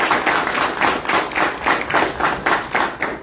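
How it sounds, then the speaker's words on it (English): A crowd at a political barbershop gathering with the US House Minority Leader gives a round of applause, loud continuous clapping close by that pulses slightly in waves. "Let's give him another round of applause, please."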